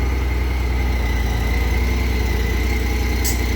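A Honda GL1500 motorcycle idles steadily up close, a constant low throbbing rumble with a faint high whine, no voices.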